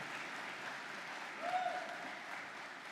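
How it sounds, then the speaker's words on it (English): An audience at a fall university convocation applauds the faculty with steady, dense clapping that fills a large hall, swelling briefly midway, with no one speaking over it. "could we please give a round of applause for all the faculty"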